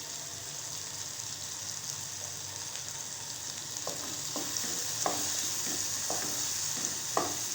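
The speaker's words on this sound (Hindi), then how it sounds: "अब हम इसको भूनेंगे" Spices for chana pulao, with salt and crushed red chilli, roast in a pan under a constant sizzle, and in the second half a spoon scrapes and taps against the pan in a quick series of strokes.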